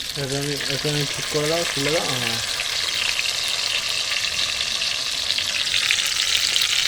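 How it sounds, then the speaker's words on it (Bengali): Curry leaves and nigella seeds crackle and hiss loudly in hot oil, a dense steady frying roar, with a short spoken phrase over it at the start. "তেলেতে কারি পাতা আর কালো জিরে দিয়েছি"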